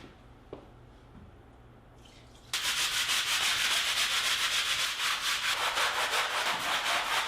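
A brush scrubs a wet concrete garage floor in fast, rhythmic strokes, starting abruptly after a quiet moment and continuing loud and close, with a watery scraping texture.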